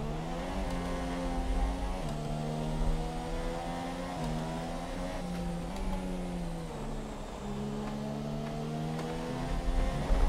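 A Formula 1 car's engine roars in a racing video game at the Malaysia Grand Prix, a steady high-pitched whine that drops and climbs with quick downshifts and revs.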